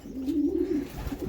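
Pigeons coo in a loft, a close, low throaty rolling call sustained for about a second, then softer murmurs, no voices.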